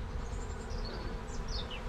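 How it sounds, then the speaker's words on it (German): Wasps swarming in large numbers along a narrow path in the Ehrbachklamm gorge, a continuous low insect buzz close by with faint higher whines drifting over it. "Ne, es sind Wespen."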